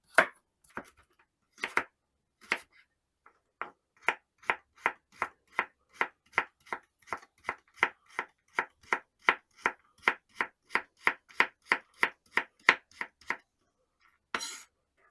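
A knife chops vegetables into small cubes rapidly and evenly on a cutting board, a long run of crisp close taps after a few scattered cuts, then a brief scrape.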